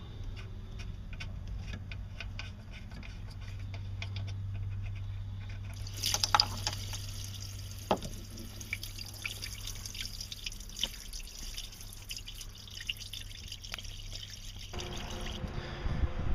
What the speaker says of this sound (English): draining all of the water out of the entire cooling system